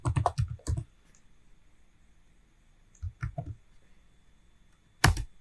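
Computer keyboard keys typed in short bursts, a quick cluster of clicks, a pause, then two more brief flurries while code is entered; close and dry with no talking.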